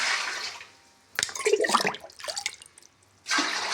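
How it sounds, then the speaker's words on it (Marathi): Water gushes and splashes into a large metal cooking pot for a couple of seconds, with steady hissing water noise before and after. "आता आपण इथे एक किलोसाठी अर्धा गंज पाणी टाकून घेऊ"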